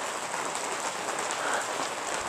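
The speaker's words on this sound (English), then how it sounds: "And now it's like raining" Steady rain falls on a hard surface after a hailstorm, a dense, even hiss of drops that continues without pause.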